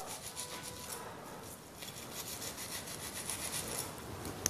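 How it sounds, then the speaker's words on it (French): A kitchen knife slices through an onion on a cutting board, a quiet close series of quick crisp strokes and scraping cuts in an irregular rhythm. "on va le découper dans ce sens-là, ce qui nous permet d'avoir des tout petits cubes d'oignon"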